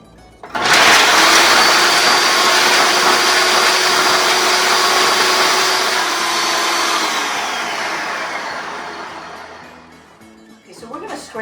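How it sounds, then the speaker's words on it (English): A blender whirs loudly and continuously for about ten seconds while it purées a Greek parsley-garlic dip, its roar easing slightly toward the end before the motor winds down. "So we're going to blend all of this."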